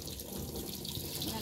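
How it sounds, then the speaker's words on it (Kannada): Water is poured over peanuts in their shells as they are rinsed to clear off the mud, a soft running splash heard faintly and close by with a voice speaking over it. "ಇಲ್ಲಿ ನೋಡಿ ನೀರು ಚೆಲ್ತಾ ಇದ್ದೀನಿ."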